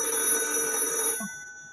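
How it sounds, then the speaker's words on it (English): A home landline telephone rings in a loud electronic trill that cuts off after about a second, leaving faint tones in a quiet room. "No, it's my actual telephone that was going off, and my home phone."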